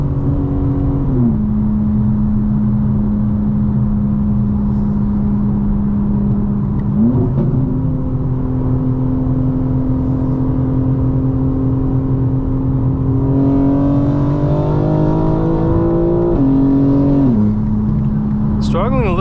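A 2025 BMW M4 Competition xDrive switched to rear-wheel drive revs and accelerates hard, its engine note holding, stepping up through gear changes and climbing in pitch, close and loud, with someone talking intermittently over it.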